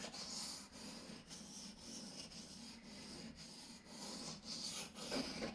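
A bushcraft knife is drawn steadily across a sharpening stone, giving a soft, even rasping in repeated strokes at close range with no talk.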